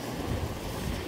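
Large ocean waves surge at night in rough weather, a steady broadband roar of surf and wind buffeting the microphone, continuous and loud throughout with no talk.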